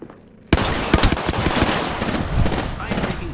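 Rapid automatic gunfire rattles loudly in a first-person video game firefight. Dense bursts of shots and impacts begin abruptly after a brief quiet moment and continue without a break.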